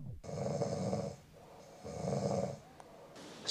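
Someone's partner snoring loudly during a short night's sleep, two long rasping snores with a quiet pause between them, close by and with no talk.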